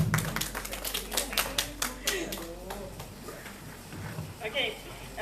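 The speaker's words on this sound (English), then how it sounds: "give applause for Mirjana from Serbia" An audience at an academic seminar on Scopus journal publishing claps for a guest from Serbia, sharp separate hand claps in an uneven burst that thins out toward the end, with voices mixed in.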